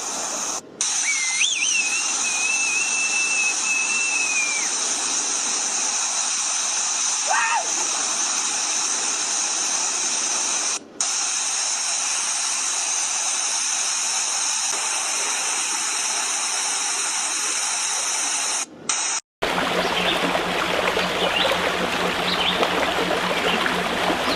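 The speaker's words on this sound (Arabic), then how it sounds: "شوفوا ما شاء الله شلالات وادي شيخ. طبعا شلالات نزلت." Waterfalls at Wadi Sheikh in Salalah, Dhofar, give a steady, close, full rushing roar of falling water throughout, with a brief whistle-like tone early on and a shift in texture near the end.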